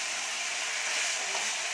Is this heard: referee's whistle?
no